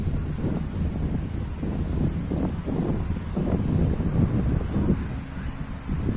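Strong wind blows steadily across open temple grounds, a constant rushing roar with gusty buffeting against the microphone and no voices.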